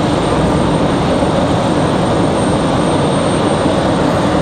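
A departing airplane at Raleigh-Durham International Airport gives off a loud, close, continuous engine roar that stays dense and unbroken throughout, with no voices.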